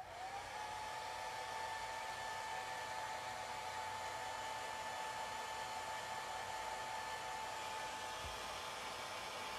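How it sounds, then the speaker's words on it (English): A hair dryer runs steadily and close up for the whole stretch, drying freshly laid paint on a painted lava-themed fire elemental miniature, with a constant whirring blow and a high whine and no voices. "now I'm gonna go back to the hairdryer for a minute just to get this all completely dried."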